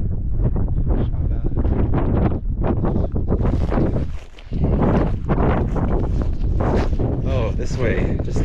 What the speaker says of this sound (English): It's windy. You probably can't hear anything I'm saying.